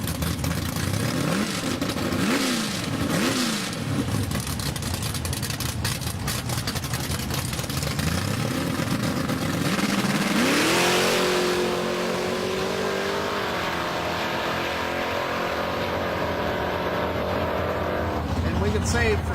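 Drag race cars and a pickup truck launch down a strip at a Big Block Ford event, engines roaring loud and continuous with rising revs and gear changes, an announcer's voice under the noise.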